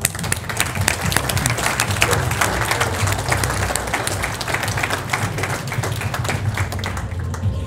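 An audience at a university lecture breaks into loud, sustained applause, dense overlapping claps holding steady for several seconds before tapering slightly, with faint voices beneath.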